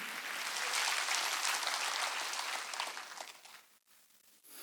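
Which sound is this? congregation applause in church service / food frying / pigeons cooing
congregation applause in church service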